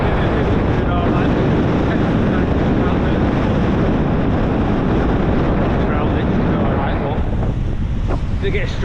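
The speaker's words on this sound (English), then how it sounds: "Big old wind now." Strong wind buffets the microphone beside a lake during winter carp fishing, a loud, steady roar with rushing water and gusts throughout, no clear talking.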